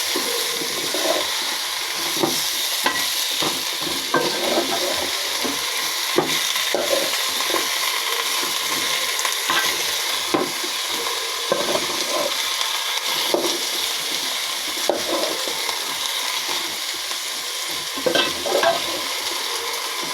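Green beans and potatoes stir-fried with spices in a pan give a steady close sizzle, with frequent scraping and clacking strokes of the spatula throughout.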